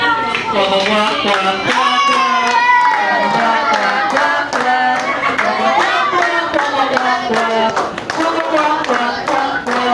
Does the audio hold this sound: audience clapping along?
yes